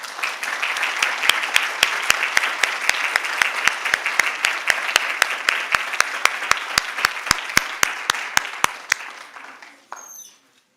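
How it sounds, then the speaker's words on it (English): An audience at an El Paso school district board meeting applauds an educator named as an award finalist, with steady clapping and a few sharp, prominent claps close by, fading out near the end. "Please welcome Keith Lee with a round of applause"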